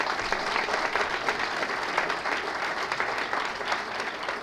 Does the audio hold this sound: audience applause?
yes